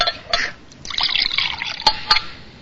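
Water poured from a pitcher, a light liquid trickle and splash in a quiet room, broken by a few sharper drips and clinks near the end.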